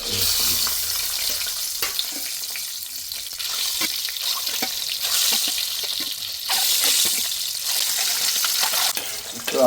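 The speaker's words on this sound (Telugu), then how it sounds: "ఈ ఎగ్స్ చక్కగా ఈ ఆయిల్లో ఫ్రై చేసుకుందాం" Eggs frying in hot oil with a pinch of turmeric, a steady broad sizzle and crackle running throughout with occasional spatula scrapes and stirring clicks, close and fairly loud.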